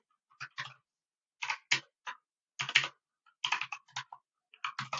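Clicky keystrokes on a computer keyboard as code is typed, short clusters of close taps separated by brief pauses in an otherwise quiet room.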